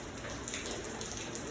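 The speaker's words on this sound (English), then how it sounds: "The rain's gonna stop in an hour." Rain falls steadily during a heavy thunderstorm, an even faint hiss of drops on surfaces with no breaks and no thunder, with no voices.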